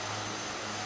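Exterior engine drone of a de Havilland-style Twin Otter turboprop in a flight simulator game, a loud steady broadband roar with a constant low hum throughout.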